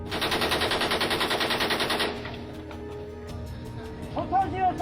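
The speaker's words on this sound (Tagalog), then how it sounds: "nagpakawala rin sila ng 180 rounds mula sa kanilang M60 machine gun" An M60 machine gun fires a rapid, rhythmic burst for about two seconds in a South Korean clash with a Chinese vessel, followed by quieter background noise.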